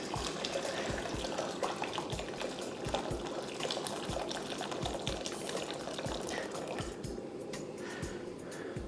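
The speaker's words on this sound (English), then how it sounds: "we'll start with adding hot water" Hot water being poured into a cooking pan for a Samoan sua masi dish, a continuous splashing, gurgling pour with bright watery detail and small knocks, heard close and steady throughout.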